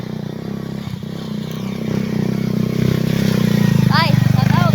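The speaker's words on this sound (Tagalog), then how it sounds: "mayroong motor" A motorcycle engine idles and draws closer, its rumble growing steadily louder with a rapid rhythmic throb, while people talk over it.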